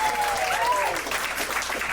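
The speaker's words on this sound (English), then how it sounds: "Round of applause for that" Audience applause at a live comedy club show, a dense steady wash of clapping from a crowd lasting the whole stretch, with a few voices calling out over it.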